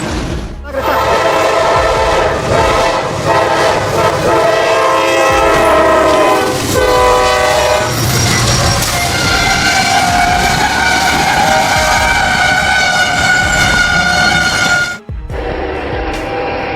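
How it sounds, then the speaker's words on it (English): A train's heavy steel mass slams into a shipping container blocking the tracks, a loud sustained grinding screech with metallic rumble and horn-like tones filling the scene, a brief sharp break near the end. "A screech pierced the silence as the train's massive steel mass smashed into the container that had been blocking the tracks"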